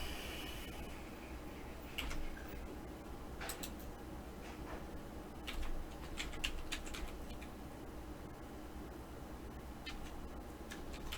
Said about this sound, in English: I was just typing in a search engine the L thing